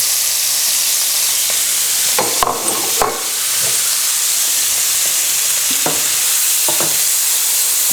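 Mushrooms frying in oil with bacon in a pan for a creamy pasta: a steady loud sizzle runs throughout, with a few stirring scrapes and clatters near the middle and later on.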